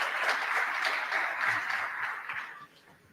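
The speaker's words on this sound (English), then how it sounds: "Please, a big applause for him." Audience clapping for a keynote speaker at a broadcasting technology symposium, a brief rhythmic patter of hands that thins out and dies away within about three seconds.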